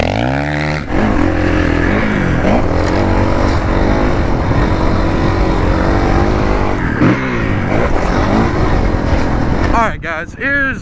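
A dirt bike engine revs loud and close throughout a riding session, its pitch climbing and falling in repeated sweeps of acceleration before cutting off near the end.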